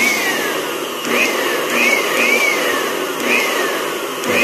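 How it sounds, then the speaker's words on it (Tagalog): Small electric blower running on an AVR being repaired in a repair shop, a steady whirring drone with a faint whining tone that rises and falls slightly, close and continuous with no talking. "Try natin pagganahin itong blower."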